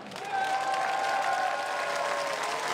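A large crowd applauds at a hockey stadium in Amsterdam before a Netherlands versus Pakistan Olympic qualifier, with sustained, dense clapping and cheering that swells early and holds steady, faint whistles or tones running through it.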